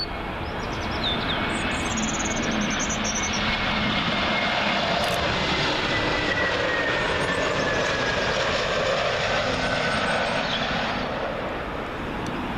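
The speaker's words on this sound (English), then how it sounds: "Next up, Swiss Air A321neo, coming from Zurich." A Swiss Air Airbus A321neo arriving at Heathrow from Zurich, a long, steady jet engine roar at moderate distance with a faint high whine running throughout.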